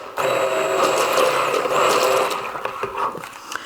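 A stick blender runs without pause, blending oil and lye for homemade hot-process liquid laundry soap: a steady, whining motor hum with some rattling, close and loud, easing off near the end.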